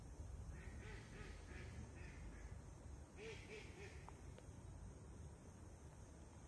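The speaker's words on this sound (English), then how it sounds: "Thank you, duck." A duck quacks in two short groups of a few quacks each, faint and somewhat distant over steady low background noise.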